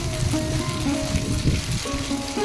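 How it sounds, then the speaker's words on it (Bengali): Ginger paste fries in hot oil with onion and green chillies, giving a steady, close crackling sizzle with small spits and pops, heard alone without talk. "আদা বাটাটাও তেলের মধ্যে কিছুক্ষণ ভাজা ভাজা করে নিচ্ছি।"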